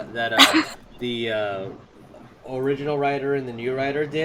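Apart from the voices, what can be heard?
dog barking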